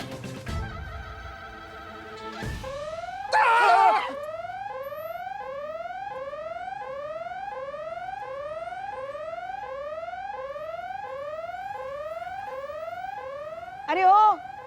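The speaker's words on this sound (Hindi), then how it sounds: "ये हमारा फोन का अलार्म बजा।" A phone alarm tone repeats in steady rising electronic sweeps for several seconds, with brief louder chirps at the start and end and faint background noise.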